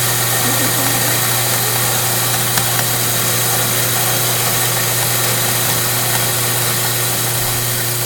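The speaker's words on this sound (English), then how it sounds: "Good grinder." An electric coffee grinder grinds beans with a loud, continuous motorized drone that holds steady, close and unbroken throughout.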